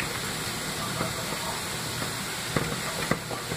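Shrimp sautéing in a pan gives a steady, close sizzling hiss with a couple of faint clicks from the utensil, and no talking.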